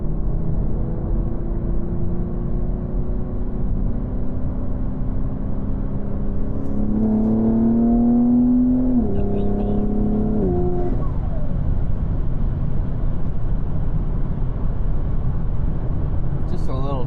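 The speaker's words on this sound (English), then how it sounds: "Just a little throttle there. Let that trans warm up a little bit." A BMW G80 with a freshly tuned transmission idling under steady engine rumble, then a gentle throttle blip raises the engine note in a smooth climb and drop around the middle, heard from inside the car.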